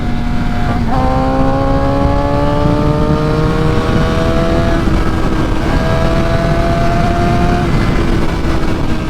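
A super sport motorcycle revs hard at high rpm close by, a loud sustained engine whine that climbs in pitch and briefly dips at gear changes before pulling up again.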